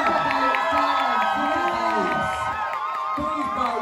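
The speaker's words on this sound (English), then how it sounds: "So we've got a massive cheer for the incredible Bunty Bombscare." A live audience at a drag competition heat cheers and whoops loudly and continuously, a dense crowd roar with shouts rising above it while a host's voice carries over the noise.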